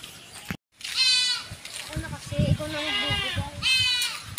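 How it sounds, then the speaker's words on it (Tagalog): Goats bleating as they are herded home to a lot in the late afternoon, several close, wavering cries overlapping with people talking. "At amin ng iuwi ang mga kambing."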